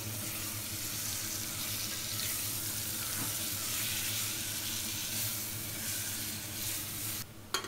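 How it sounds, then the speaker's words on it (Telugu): Marinated chicken being stirred into masala in a pressure cooker for potato chicken curry: a steady, close, wet sizzle with faint stirring scrapes throughout, ending in a brief clatter, with no talking. "ఇప్పుడు అదే కుక్కర్లో ఆల్రెడీ ఉన్న మసాలాలోనే ఇప్పుడు మనం మ్యారినేట్ చేసి పెట్టుకున్న చికెన్ని వేసి మంచిగా కలుపుకుందాము."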